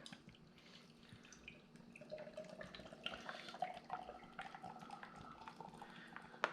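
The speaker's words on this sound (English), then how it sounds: "Okay, now we pour as normal by tipping the" Liquid pours from a nitrogen-widget can into a container, a steady gentle splashing and trickling with small drips, close by and fairly quiet, with no talking.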